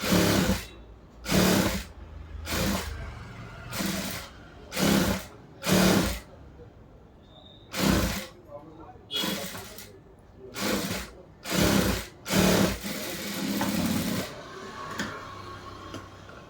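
A sewing machine stitches around the neckline of a churidar top in a string of short, loud, close bursts, with brief pauses between runs.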